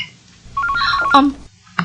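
A telephone rings in a home, a short burst of ringing over a quiet room, ending with a brief sharp tone.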